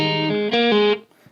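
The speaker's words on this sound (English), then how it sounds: "And then he does this little hammer-on pull-off thing at the end." A short electric guitar phrase in which notes change quickly in a hammer-on and pull-off, bright and distorted, ending in a brief fade.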